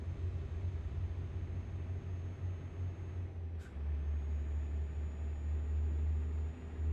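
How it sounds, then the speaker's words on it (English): Heavy low engine rumble from a truck in the American Truck Simulator game, a constant deep drone with a brief hiss like an air brake release midway before the rumble resumes slightly louder. "This is kind of a loud truck."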